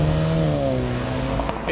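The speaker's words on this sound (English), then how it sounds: "It drives, looks, and sounds like a true Jaguar sports car." Engine of a 2018 Jaguar F-Type sports car with the four-cylinder Ingenium engine, a steady loud drone whose pitch sinks slightly across under two seconds, close and with no voices.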